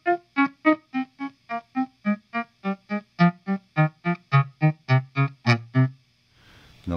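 Electric guitar playing with no delay pedal, a quick even run of about twenty short, dry picked notes stepping downward, close and clear, then a brief soft noise at the end.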